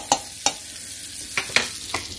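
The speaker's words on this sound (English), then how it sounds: "When you put that grouse on there, you want it to be sizzling pretty good." Ruffed grouse sizzles in butter in a hot pan, a steady soft frying hiss broken by several sharp scraping stirs at uneven intervals.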